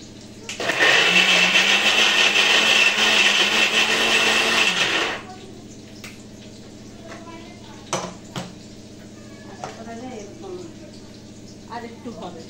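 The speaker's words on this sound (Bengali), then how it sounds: "এটাকে আমাকে এখন মিক্সিতে পিসতে হবে" A kitchen mixer grinder whirs loudly for about four seconds as it grinds boiled jackfruit seeds with garlic and chilli, then stops; scattered clinks of the jar and utensils follow while someone talks.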